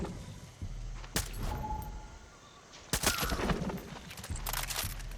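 Suppressed assault rifle fire in a first-person shooter game, a few sharp bursts spaced apart with quieter stretches between, moderately close and not very loud.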